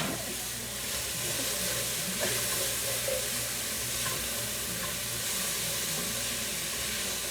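Vegetables with corn sizzle in a hot pan for chicken pot pie, a steady close crackling fry with faint stirring scrapes throughout.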